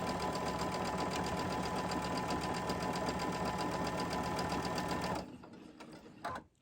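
A sewing machine runs steadily for about five seconds, stitching strips of Halloween-themed quilting fabric together, loud and close, then stops, leaving a faint rustle and a brief clunk.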